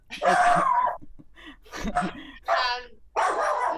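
A dog barks in several sharp bursts close by, with short pauses between them and a voice briefly mixed in.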